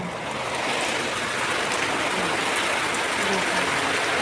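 Heavy rain pours down with rainwater flowing and splashing around a flooded house and gate, a steady, loud, unbroken wash of noise with no voices.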